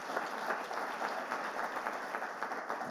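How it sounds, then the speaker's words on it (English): Audience applause at a public event launching a creative-economy report, a steady wash of clapping from a crowd held evenly for the whole stretch with no voices over it. "Give them a round of applause, won't you?"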